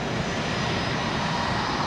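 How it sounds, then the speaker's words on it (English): A Bombardier Challenger 604 business jet passes on final approach, its engines giving a steady, loud, broadband roar that holds even throughout, with no voices. "Cool looking exec jet."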